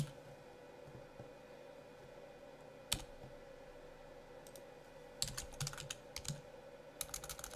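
Password typed on a computer keyboard, a few isolated key clicks followed by short bursts of rapid, close, fairly quiet tapping toward the end, with no talk.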